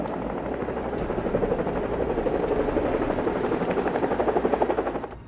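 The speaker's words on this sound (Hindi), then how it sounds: "दोनों हेलीकॉप्टर एक बहुत बड़ी और शानदार हवेली के सामने मैदान में एक साथ उतरते हैं" Two helicopters set down together on open ground in front of a large, grand mansion, their rotors beating in a loud, steady, rapid thumping chop that holds for several seconds before easing off at the end.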